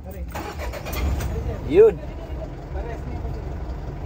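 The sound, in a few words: truck engine running after remap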